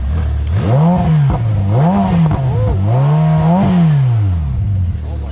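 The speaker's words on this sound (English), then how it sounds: "let's hear what this thing sounds like. And is it twin turbo? Yeah, twin turbo V8." A Ferrari F8 Tributo's twin-turbo V8 revving close by in several rising and falling blips, each climbing to a howl before dropping back toward idle, loud throughout.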